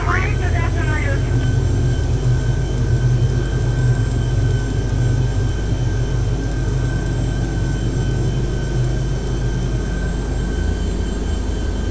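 Aircraft engine drone in Flight Simulator X, a steady loud cockpit hum with a sustained tonal whine over low rumble; a voice talks over it throughout.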